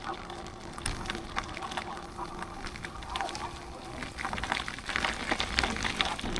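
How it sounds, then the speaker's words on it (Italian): Steady rain falls during a gravel bike ride in the Veneto countryside, a dense broadband hiss with scattered patters and splashes that holds at a moderate level throughout, with no talk. "Continua a piovere"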